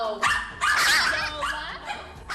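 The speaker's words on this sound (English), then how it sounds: "You can't sit and eat without one of the dogs trying to steal food or beg." A dog, one of several in a household, barks loud and close in a few quick sharp yips and bursts over about two seconds.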